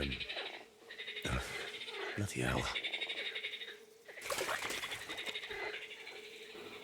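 Toads croak in a swampy scene from the video game Kingdom Come Deliverance 2, a steady chorus of rough, pulsing calls that runs throughout, with someone briefly speaking over it.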